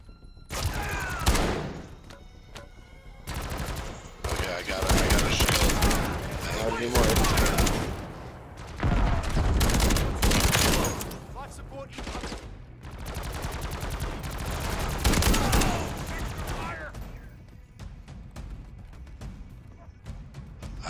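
Gunfire in Call of Duty Zombies, with repeated loud bursts of rapid shots and brief pauses between volleys over roughly twenty seconds, mixed with speech.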